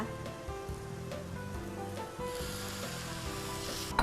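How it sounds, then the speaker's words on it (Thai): Stock pours into a pan of sautéed spiced rice for Saudi kabsa, giving a steady hissing sizzle and splashing that brightens partway through, close and continuous without speech. "จากนั้นค่ะเราก็จะใส่น้ำสต๊อกค่ะคุณผู้ชม ที่เราได้เตรียมไว้เรียบร้อยแล้วนะคะ"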